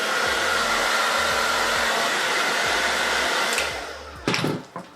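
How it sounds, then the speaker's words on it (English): A hair blow dryer runs steadily on damp bantu-knotted natural hair, a loud constant whoosh with a low motor hum, its airflow wavering as it is moved, then cutting out near the end. "I'm just gonna take my blow dryer and kind of run it over them a little bit."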